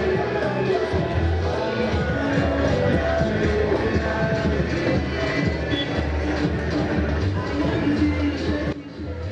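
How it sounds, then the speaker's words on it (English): Loud music from two competing pubs fills a residential road at night in North Kaneshie, Accra, a dense continuous wash of thumping beats and crowd murmur from a distance, steady throughout before a brief dip at the end. "Loud music from 2 pubs compete for the attention of sleepy residents,"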